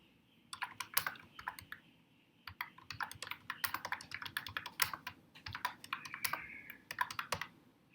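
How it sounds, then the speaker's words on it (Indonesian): Fingers type in bursts on a computer keyboard while entering text in a Linux text editor, a quick irregular clatter of close keystrokes with short pauses and a faint background hum. "setelah kita selesai untuk mengetikkan sesuatu di editor film"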